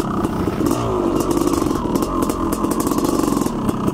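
A Honda CR500AF motorcycle engine roars up a steep dirt hill climb, a loud, close, continuous high-revving drone with rattling clatter throughout and no voices.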